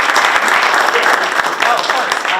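An audience at a Los Alamos Chamber of Commerce event breaks into loud, sustained applause to welcome a speaker, dense clapping filling the room.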